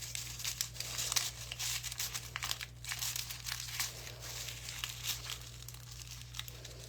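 A sheet of paper is folded for a spell, giving soft, faint crinkling and rustling in short irregular bursts over a steady low hum.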